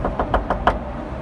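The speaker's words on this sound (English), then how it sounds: "Knocking on doors in the neighborhood" Five sharp knocks on a door come in a quick, even run, close and clear, then stop.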